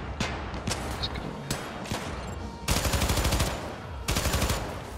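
Gunfire in the video game Syndicate: scattered single shots over a busy game mix, then two sustained bursts of rapid automatic fire, moderately loud.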